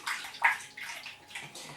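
Homebrew liquid poured carefully back into a trial jar, a brief trickling splash with a couple of gurgling bursts, close and fairly loud.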